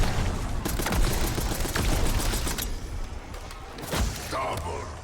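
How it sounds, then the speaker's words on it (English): Hip-fired gunshots in Call of Duty: Black Ops 6 multiplayer rattle off in quick bursts and scattered cracks under a steady wash of game noise, with someone talking over them. "This gun is really good for hip firing, even in a multiplayer"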